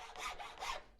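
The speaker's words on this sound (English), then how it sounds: "Now I'm using a reasonably coarse rasp for this job at the moment" A reasonably coarse rasp files a carved wooden twisty spoon in two close, raspy scraping strokes, a push and then another, soft and dry with no talk.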